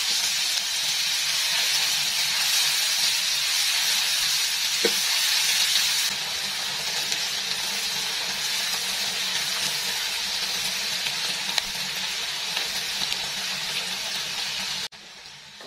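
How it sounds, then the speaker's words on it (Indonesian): Ground spice paste for a scrambled egg sambal sautés in a hot wok, a steady close hiss and sizzle with a single clink along the way, stopping abruptly at the end. "langsung aja aku tuangin semua bumbu yang tadi udah kita haluskan. Aduk-aduk dan tumis bumbunya sampai wangi dan juga matang."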